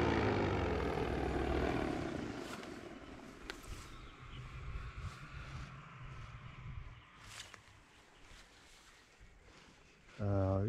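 A propeller aircraft engine, a Hadron 3, drones steadily at moderate distance through a landing, its pitch and loudness shifting, ending with a louder close burst of engine tone.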